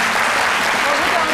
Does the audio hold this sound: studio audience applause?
yes